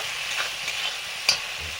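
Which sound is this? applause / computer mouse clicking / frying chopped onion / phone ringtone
frying chopped onion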